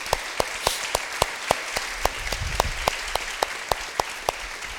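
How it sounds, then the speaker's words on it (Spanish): A church congregation claps during a Spanish-language sermon in a steady, regular rhythm of sharp hand claps over a continuous background wash of applause, with a low rumble briefly rising midway. "Démosle un aplauso al Señor."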